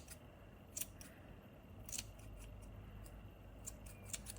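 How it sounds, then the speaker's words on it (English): Scissors trimming the yarn ends of a tassel, several crisp close snips in an irregular rhythm against a very quiet background. "I'm just going to trim those to roughly the same length."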